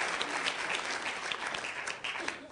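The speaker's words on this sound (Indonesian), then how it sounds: "Berikan tepuk tangan dulu buat Tuhan Yesus Kristus." Steady applause from a church congregation during a sermon at a hotel venue, dense clapping sustained evenly throughout at moderate distance.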